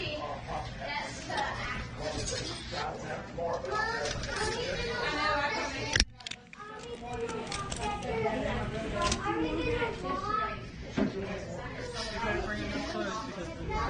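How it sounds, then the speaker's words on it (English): Excited children chatter and shout inside a busy thrift store, a steady, dense hubbub of young voices and general crowd noise with a brief sharp knock partway through, while nearby people talk over it. "there was some really excited children in this store today"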